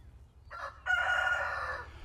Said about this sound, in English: I really like to hear him whenever he crows.